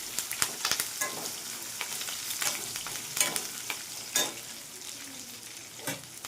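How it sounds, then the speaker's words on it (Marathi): Curry leaves, spices and green chillies frying in a pan for tempering, a close steady sizzle broken by sharp stirring scrapes and spoon knocks at uneven intervals, no voices. "कढीपत्ता मसला फेकून घेतलेला हिरवी मिरची मस्त असं दोन मिनटं आपण फ्राय करणार आहे"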